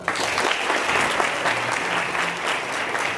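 A hall audience at a national oratorical festival awards ceremony breaks into dense, steady applause that fills the room evenly for the whole stretch, with no voices standing out above the clapping.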